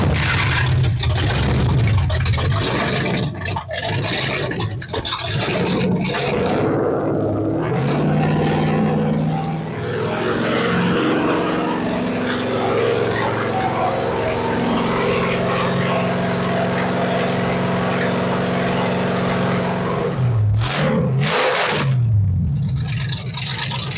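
A rat rod's 327 small-block Chevy V8 with flame-thrower exhaust, suspected of running too much ignition timing, rumbles loudly close by and revs up and down repeatedly, with sharp blips near the start and end.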